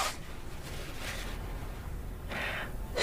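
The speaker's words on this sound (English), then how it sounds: "First, blow your nose." A sick child with the flu blows his nose in a TV sitcom scene, making a few short, soft, breathy honks and snorts in a quiet room.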